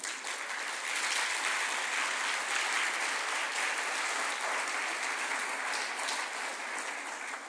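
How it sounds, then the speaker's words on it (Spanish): A church congregation applauds in a dense, steady roar of clapping that holds evenly for several seconds, loud and close, with no speech over it. "Dale un aplauso al Señor"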